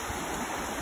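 A river rushing during a ford on the Pinhoti Trail gives a brief, steady broadband roar of moving water, close and moderately loud.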